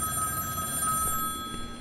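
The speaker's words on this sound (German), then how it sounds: "Telefon klingelt." An electronic telephone bell rings in a FNAF horror video game, a sustained, shrill tone with high overtones heard fairly close over a low background rumble, with no talking over it.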